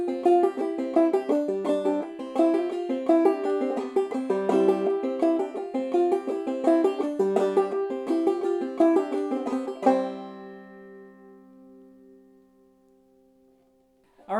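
Clawhammer banjo plays the B part of the old-time tune Old Molly Hare in a steady, bouncy rhythm for about ten seconds, then the final notes ring and fade away; close, solo, no talking.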